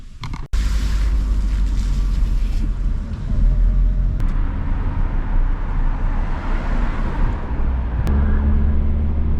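Steady interior road rumble of a car driving through Bucharest city streets, a continuous low drone with a few sharp clicks or bumps and faint traffic wash, close and even throughout.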